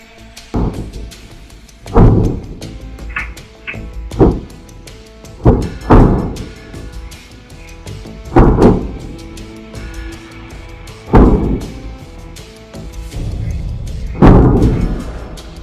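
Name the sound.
explosions at night in a social media video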